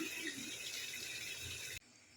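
Water bubbling in a pot on a gas stove while making biryani with rice, coriander and mint: a steady broadband rushing hiss lasting most of the clip, then abruptly dropping away near the end.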